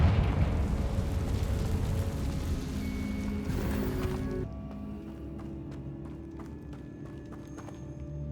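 A Confringo spell explodes in Hogwarts Legacy: a loud, dense burst with a rumbling low roar for about four seconds, then a sudden drop to quieter game ambience with scattered light clicks and faint tones.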